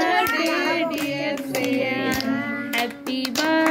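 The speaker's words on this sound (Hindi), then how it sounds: "दादा बतिया ताली बजा, ताली" Hands clap in a quick, uneven rhythm at a family birthday celebration at home, close and fairly loud, mixed with voices singing and calling out.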